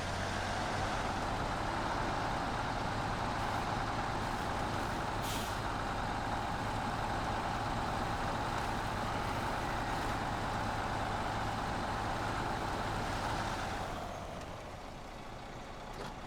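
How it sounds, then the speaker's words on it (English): Inside a truck just after a shift into high gear, the engine drones steadily and loudly at low revs for most of the clip, then eases off and quiets toward the end. "I shifted into high too soon. It didn't have time to get the RPMs up enough."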